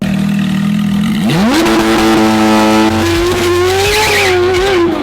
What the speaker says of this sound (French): J'adore le bruit de la GT3.